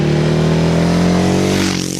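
Ducati Hyperstrada motorcycle accelerating hard enough to lift the front wheel, a loud, close, steady engine roar with a rising pitch that eases off in the final moments, with no talking.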